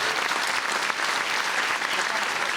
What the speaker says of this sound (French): Ah, on peut les applaudir fort